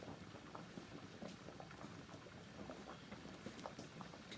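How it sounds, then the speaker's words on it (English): Spaghetti noodles boiling in a pot give a steady low bubbling and rumbling wash with scattered small pops, continuous and close, with no voices. "the noodles are boiling"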